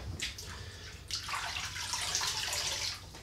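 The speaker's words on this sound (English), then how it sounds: "Let's rinse that off." Running water pours and splashes steadily from a tap as something is rinsed off under it, close and moderately quiet, with no speech.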